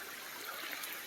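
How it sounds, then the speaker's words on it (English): Small waterfall at a state park pond, a steady broadband rush of falling water that is fairly faint and even, with no talk over it. "That's the tip of the waterfall."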